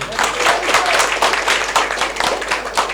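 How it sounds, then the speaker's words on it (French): Audience applause at a community political movement gathering in Kayar, Senegal, a dense, steady wash of many hands clapping for the full stretch, fairly loud and even with no clear speech on top. "Je prie de l'applaudir très très très fort."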